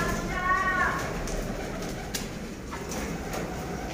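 Punjabi pigeons in a breeding loft give soft, low cooing that murmurs steadily throughout, with a faint whistle-like tone early on and a few light clicks over a constant background hum.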